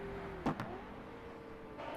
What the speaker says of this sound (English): Oh, that backfire noise.